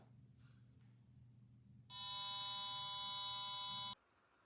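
A loudspeaker plays a 200 hertz test tone that switches on abruptly as a loud, harsh, buzzing steady drone, lasts about two seconds, then cuts off, over a faint low background hum.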